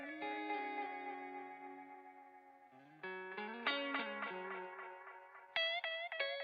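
Sustained tones run through an Echo B2 Italian tube echo emulation app with echo swell turned up, forming a layered, ringing wash of repeating notes that swell and blend, with new chords entering every few seconds.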